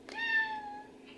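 A male house cat lets out a single clear, drawn-out meow close by, waiting outside a bathroom door in the morning for breakfast, with a faint trailing sound after it.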